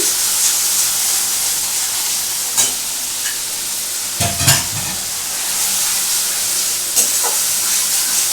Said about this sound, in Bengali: এটাকে একটু ভালো করে কষছি